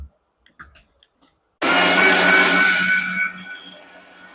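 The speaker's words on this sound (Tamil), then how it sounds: "இன்னும் கொஞ்சம் நம்ம நல்லா அரைச்சு எடுத்துக்கணும்" A kitchen mixer grinder starts up with a sudden roar and grinds red rice flakes into a coarse flour, running loud and steady alone, then easing slightly after a few soft clicks beforehand.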